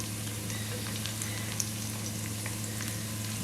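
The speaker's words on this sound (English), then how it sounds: "I'm going to put them in here" Precooked caramelized onions frying in a hot pan for butter chicken, an even continuous sizzle with faint crackles and a low steady hum underneath, no talking.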